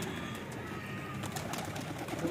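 Pigeons kept by a fancier coo softly in a loft alongside other birds, low murmuring calls repeating over a constant noisy outdoor background, with faint voices nearby.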